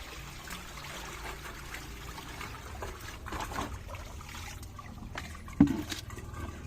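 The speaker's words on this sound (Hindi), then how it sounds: "तो ये पानी को ड्रेन कर देंगे और इसमें न्यू वाटर ऐड करेंगे" Moringa leaves being washed in a bowl of water: soft continuous trickling and sloshing close by, with a sharper splash or knock near the end.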